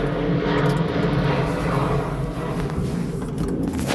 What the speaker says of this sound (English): All these damn planes in the sky.